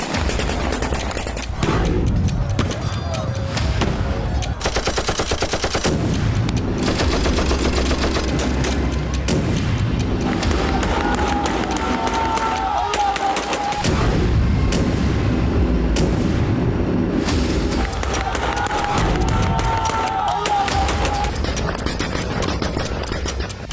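Continuous gunfire and artillery fire from fighting in Homs, Syria, with repeated loud shots, bursts and booms sounding throughout, dense and steady, with no voices.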